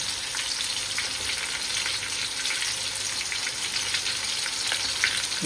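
Ginger garlic paste, added with onion and tomato, frying in a pan makes a steady, dense hiss of sizzling that holds evenly throughout, close and fairly loud, with a few faint clicks and no voices.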